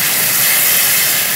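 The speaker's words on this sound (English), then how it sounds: "I just love the process of frying sauce." Sauce frying in a hot pan gives off a loud, steady sizzling hiss that continues unbroken and close-up, with no other sound.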